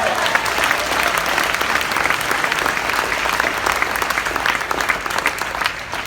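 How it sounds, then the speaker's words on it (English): A church congregation applauding during a basketball court dedication: loud, sustained clapping from a large crowd that stays dense and even for six seconds, with no voice heard over it. "Give God another hand clap of"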